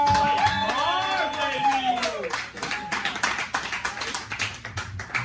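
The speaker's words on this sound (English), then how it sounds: "Please put your hands together" Comedy club audience clapping for a comedian at an open mic, sustained applause mixed with scattered cheers and a host's voice over it, fading toward the end.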